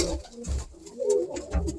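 Pigeons in a loft give soft, low throaty coos in short repeated bursts, close by and fairly quiet, with no talking over them.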